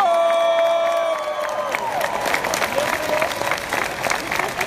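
An audience applauds at a Hall of Fame induction evening, with loud sustained clapping and some cheering from a large crowd, while a lingering musical tone fades at the start.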